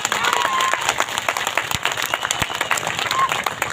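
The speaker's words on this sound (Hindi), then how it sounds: "यदि रखना है तो दोनों हाथ खड़ा करके ताली बजाओ" A crowd at a Hindi-speaking rally about land, water and forest rights claps hands together, producing irregular bursts of applause with a few sharp individual claps over a murmur of voices.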